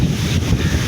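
Wind gusting steadily across open summer crop fields beside a canal road, a broad continuous rush buffeting the microphone, fairly loud and unbroken, with no voices.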